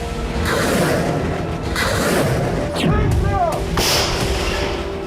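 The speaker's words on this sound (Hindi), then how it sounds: "ज़ेपोरिज़िया में रूसी सेना के जपाट ग्रुप ने होवित्ज़र से धावा बोलकर यूक्रेन के 3 पोस्ट को तहस नहस कर दिया" A Russian howitzer fires on positions in Zaporizhzhia, several heavy booms and thuds in a row, some followed by whooshing, loud and close-sounding.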